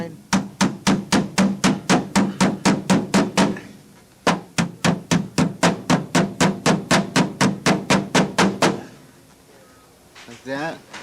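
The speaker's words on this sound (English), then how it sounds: "And you got your nice little hammer there." A small hammer strikes a workpiece in a fast steady series of sharp, loud taps, about two dozen blows, then a short pause and a second run of blows before a voice speaks.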